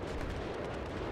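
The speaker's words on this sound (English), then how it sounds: "Let's put the grenade there." Grenade blast in the military shooter Battlefield 3, a short, loud, booming rumble that fills the moment with no talking.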